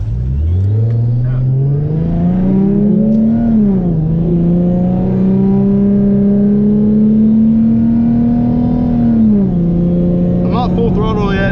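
A supercharged 3.7 Ford Mustang accelerates hard at full throttle, its engine note climbing loud and close from inside the cabin, then holding a strong steady drone before dropping off, while people talk over it.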